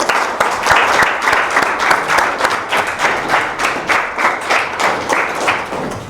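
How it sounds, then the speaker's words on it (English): A room full of people applauding a speaker at a talk: dense, sustained clapping that stays loud and close throughout, with no voices over it. "I'd like to just give him a round of applause if you could,"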